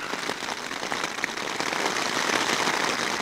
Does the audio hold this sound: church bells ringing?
no